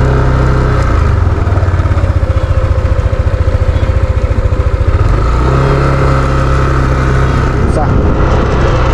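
A motorcycle engine runs steadily from start to finish at close range, with a fast, even low pulsing that shifts to a smoother, slightly different tone about halfway through.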